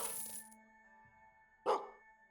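A single short, fairly clear dog bark rings out in the video game Gestalt: Steam & Cinder after steady tonal game sounds, with no one speaking.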